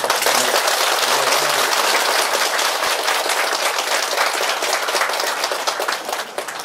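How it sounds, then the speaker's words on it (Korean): Loud, sustained applause from an audience welcoming a guest teacher at a Korean gathering, dense clapping filling the whole stretch and easing slightly toward the end. "청한 선생님을 큰 박수로"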